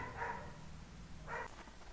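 A dog barks in the distance indoors, two brief muffled barks roughly a second apart, faint against a quiet background hum.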